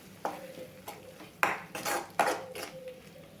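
A spoon stirring and sautéing jackfruit for gravy in a metal pan, with several sharp metallic clinks and scrapes against the pan, close and fairly quiet, with short gaps between strokes.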